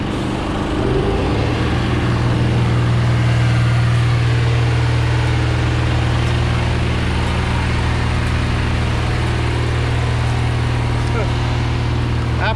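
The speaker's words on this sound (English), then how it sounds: "Sorry about the noise, the shunter." A shunter yard truck's engine runs loud and close, a steady heavy diesel drone that holds without a break.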